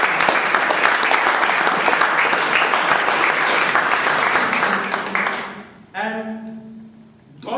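An audience at a Toastmasters meeting gives a steady round of applause that fades out after about five seconds, followed by a voice speaking.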